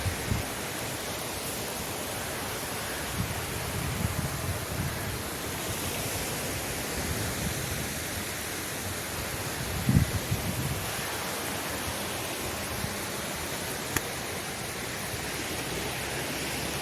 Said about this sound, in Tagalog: Ayan yung dagat, oh.